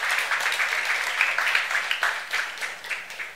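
A church congregation applauds, a dense, even wash of many hands clapping close by that holds steady and then thins slightly toward the end.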